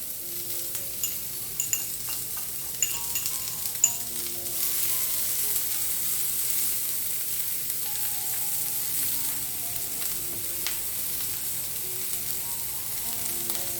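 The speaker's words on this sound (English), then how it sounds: "We're going to start off sauteing our vegetables. Just add a little bit of oil to the pan." Onions sautéing in oil in a pan for succotash with okra, a steady close sizzle with a few light clicks of utensils near the start and faint tonal music in the background.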